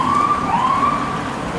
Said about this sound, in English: Hear sirens.